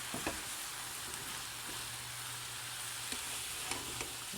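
Seasoning being stirred through food sizzling in a pan, a steady broadband frying hiss with a few soft scraping stir strokes and a low hum running underneath.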